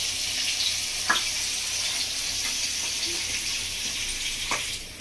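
Fish frying in hot oil in a home kitchen, with a steady soft sizzle throughout and a few faint clicks. No one speaks.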